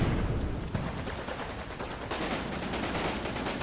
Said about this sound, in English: We've got an anti-tank gun firing down this road